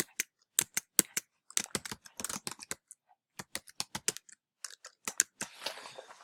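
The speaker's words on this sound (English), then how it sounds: "if I type in a message to you" Keys on a computer keyboard clatter in quick irregular bursts while a message is typed, with short pauses between clusters of clicks and no voice.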